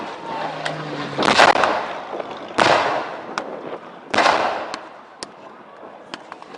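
Three heavy blasts boom out a second or two apart as a fuel dump is blown up at a historical battle reenactment, each with a rumbling tail, followed by scattered sharp pops of gunfire in the distance.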